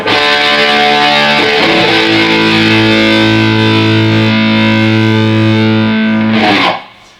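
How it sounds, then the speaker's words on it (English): An overdriven Marshall Valvestate combo guitar amp sustains a thick, distorted chord that swells into steady humming feedback, then cuts off abruptly near the end. "as you see you're getting a bit of feedback"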